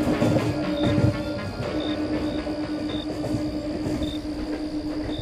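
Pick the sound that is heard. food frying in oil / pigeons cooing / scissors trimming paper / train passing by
train passing by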